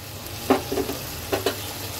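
Taro leaves and green chillies fry in a pan with a soft background sizzle, broken by a few quick scraping stirs in two short bursts.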